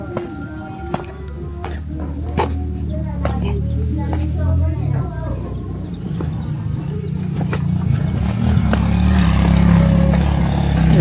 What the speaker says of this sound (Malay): Boleh dengar bunyi motor, tak nampak.